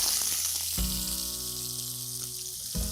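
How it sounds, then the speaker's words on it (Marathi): Two large sliced onions sizzle in a pan for Malvani crab curry while being stirred. The steady frying hiss is joined by a low tonal hum and brief stirring bumps, heard up close with no talking. "ते सगळे मिक्स करूया. तेही छान परतून घेऊया."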